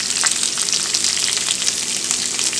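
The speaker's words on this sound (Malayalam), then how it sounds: "അപ്പോൾ ചെറിയ ഉള്ളി അതിലേക്ക് ചേർത്ത് കൊടുത്ത് നന്നായി വഴറ്റണം." Shallots sizzle and crackle as they fry in coconut oil for a spinach stir fry, a steady, close, dense hiss with small pops, with no talking.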